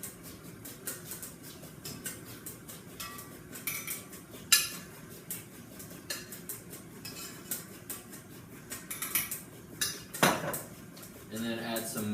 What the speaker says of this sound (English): we're going to start alternately mixing our milk and our dry ingredients together into this mixture